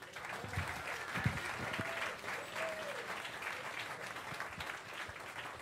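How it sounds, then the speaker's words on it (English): Applause from the audience at a piano awards concert, a steady wash of clapping heard at a distance and fairly soft, with a few brief murmurs mixed in. "Let's give a great round of applause for my great friend, Mr. Joel Harrison."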